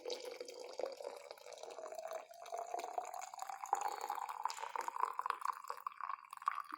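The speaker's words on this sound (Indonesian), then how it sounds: "setelah itu tuang air yang udah panas" Hot water pours steadily into a container for an herbal cough remedy, a continuous close splashing stream whose pitch slowly rises as the vessel fills.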